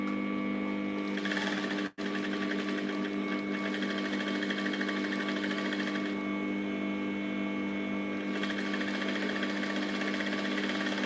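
A sewing machine runs in steady, rapid stitching bursts along a bustier seam, with a brief pause early on, close and moderately quiet over a constant motor hum.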